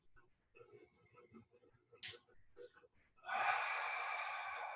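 A voice speaks softly, then gives way to a long, steady, breathy exhalation during a deep diaphragm-breathing yoga exercise for sciatica, close and sustained to the end.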